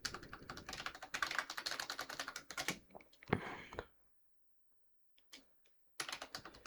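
Fast typing on a computer keyboard entering a Linux terminal command, a dense run of clicking keystrokes, a pause with a few isolated taps, then more typing, close and quiet.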